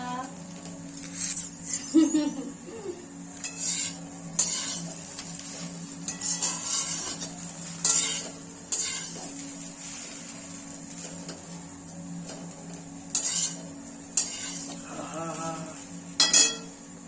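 Chowmein being stirred in a pan with tomato sauce added, with utensils scraping and clinking against the metal in irregular bursts over a steady background hum, while a voice talks intermittently.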